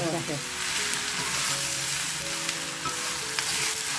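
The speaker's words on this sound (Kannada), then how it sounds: "ಇದನ್ನ ಹೈ ಫ್ಲೇಮಲ್ಲಿ ಒಂದು ಎರಡು ನಿಮಿಷ ಈ ಥರನೂ ಕೈ ಆಡಿಸ್ತಾ ಇರಬೇಕು" Brinjal (eggplant) stirred while frying in a pan on a high flame gives a loud, steady sizzle with a few faint scraping stirs under it, close up and without talking.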